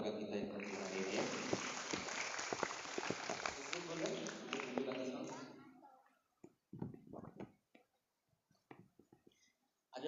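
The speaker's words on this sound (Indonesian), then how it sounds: "Tepuk tangan buat kakak kita yang tadi hadir ya." An audience at a school motivational seminar applauds in a dense, steady burst for several seconds, somewhat distant and faint, before it fades into scattered noises and talk.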